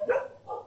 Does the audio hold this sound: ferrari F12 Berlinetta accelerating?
no